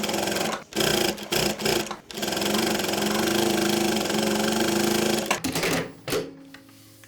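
An industrial sewing machine fitted with a folder and guide presser-foot attachment stitches fabric. A few short starts come first, then a long loud steady hum of running stitches, ending in brief stop-start bursts.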